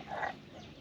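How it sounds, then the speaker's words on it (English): A single soft, brief wild turkey hen cluck sounds at a distance against a quiet outdoor background in Texas. "hear a hen there"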